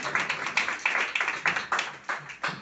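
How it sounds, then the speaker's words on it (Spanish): Sparse hand claps ring out at a conference, a handful of separate claps in an uneven rhythm, fairly faint and somewhat distant, with no talking over them. "Por lo tanto, démosle ese aplauso a ella."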